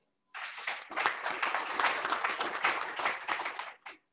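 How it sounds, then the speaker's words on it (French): Participants at a pharmacotherapy lecture on antihypertensive drugs applaud a panelist. The dense, even clapping swells quickly, holds steady for about three seconds and then stops abruptly, with no voices over it. "nous allons demander à tous les participants de pouvoir encourager le panéliste toujours en l'acclamant"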